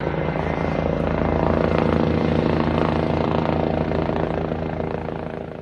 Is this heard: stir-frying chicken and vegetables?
no